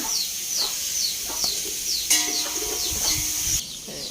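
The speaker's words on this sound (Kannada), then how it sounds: "ಇಲ್ಲೇ ಕೋಳಿಗಳು ಓಡಾಡ್ತಾ ಇದೆ" Chickens cluck and call close by at a rural home, with a quick run of repeated short squawks over a constant high background hum.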